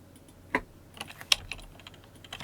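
Keys clatter on a computer keyboard during Photoshop portrait editing, in a few sparse, quiet bursts of clicks spread over a couple of seconds with no voices.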